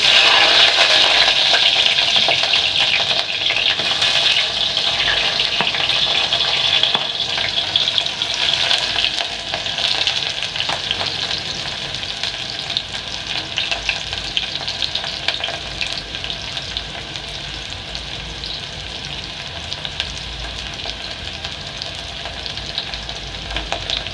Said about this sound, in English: So here I've put my cooking oil and it's ready. So I'm going to add my onions.